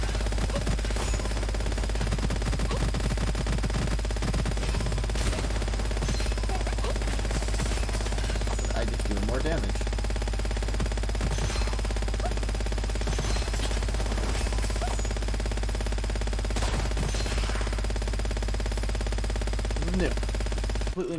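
Gunfire in the video game Gunfire Reborn: rapid, repeated shots crackle over a constant loud background drone, in bursts spread across the whole stretch.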